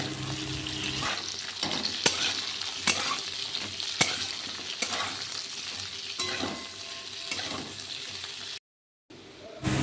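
Onions sizzle in oil in a pan with potatoes that were fried until red, a steady crackle broken by repeated stirring scrapes, close by with no talking.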